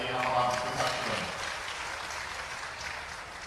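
A crowd claps at the unveiling of a statue of former chief minister Kailash Joshi in Hatpipliya, giving a sustained, dense round of applause that fades slightly, with a speaking voice over it at the start.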